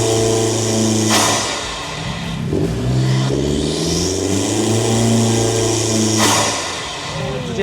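A Honda Civic Turbo fitted with an SPR intake revs loudly and close, its engine note rising and falling through several throttle blips with a whooshing intake roar.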